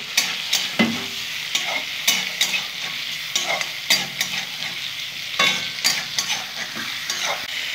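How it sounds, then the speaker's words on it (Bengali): Steady frying crackle from prawns in a hot pan, with repeated sharp clinks and scrapes of a utensil stirring through it. "এখন ভেজে নেব আমি।"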